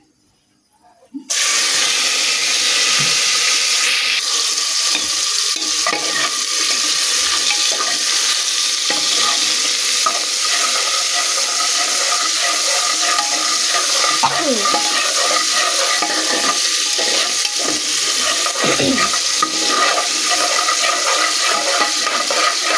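Chopped tomato, ginger and green chili dropped into hot ghee for a vegetarian tarka, bursting into a loud, steady sizzle that fills the whole stretch with occasional stirring scrapes.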